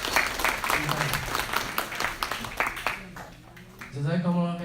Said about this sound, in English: give applause to all of the community members who helped with this event